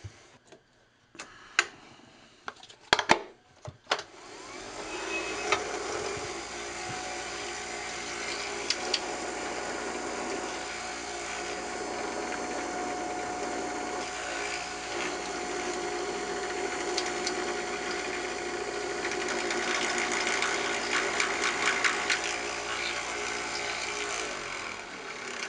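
Wood lathe spun up to full speed while buffing a turned wooden bullet pen, a steady broadband whir with a light ticking, rattling mechanical rhythm running continuously after a few sharp knocks at the start.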